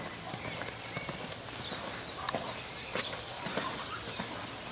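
Hooves of a young Lusitano stallion clip-clop at a Portuguese stud farm: a fairly quick, irregular series of soft hoof strikes at moderate distance over faint background noise, with occasional light chirps.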